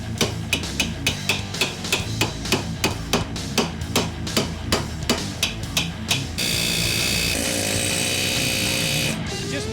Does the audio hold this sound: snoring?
no